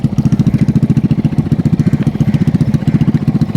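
Motorcycle engine running steadily up close during a riding lesson, a loud rapid even thumping pulse at idle with no other sounds.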